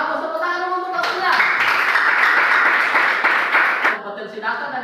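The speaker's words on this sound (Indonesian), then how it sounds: "Oke, bagus, tepuk tangan dulu untuk Anda." A class of students applauds in a classroom, a loud, steady wash of clapping in the middle stretch, bracketed by talking before and after.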